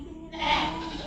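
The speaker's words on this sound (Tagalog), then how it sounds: "Eto ngayon kambing." A goat bleats once in a residential subdivision, a single wavering cry that rises and fades over moderate background hum.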